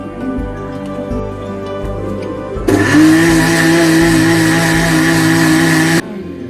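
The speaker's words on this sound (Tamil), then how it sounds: "இது எல்லாத்தையும் மிக்சியில் போட்டு நல்லா கிரைண்ட் பண்ணிக்கலாம்" A kitchen mixer grinder churns spice paste with salt and oil for Arabian-style mandi biryani. It roars up suddenly into a loud, steady, high-pitched motor whir for about three seconds, then cuts off abruptly.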